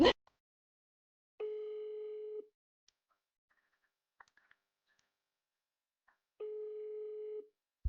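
Two long telephone ringback tones, each lasting about a second, separated by a quiet gap with faint small clicks, as a call goes unanswered; no one speaks.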